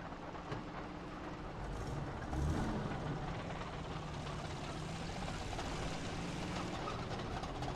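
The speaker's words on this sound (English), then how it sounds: "Engine on." Tank engine in the Post Scriptum World War II game starting up and then rumbling steadily at idle, a low continuous drone with a brief louder surge early on, heard alone without talk.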